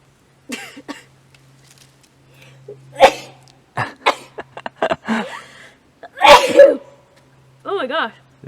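Sneezes and coughs burst out during a nasal rinse, a couple of sharp, loud explosive bursts spread among gasps and brief voices nearby.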